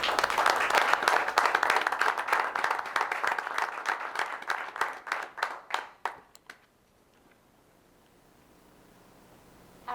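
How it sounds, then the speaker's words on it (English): Audience applause for Danielle Yeager at a board of education meeting, a dense burst of clapping that thins into scattered claps and fades out around six seconds, followed by near silence. "Please join me in giving Danielle Yeager a great big round of applause."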